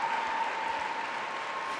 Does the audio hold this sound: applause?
yes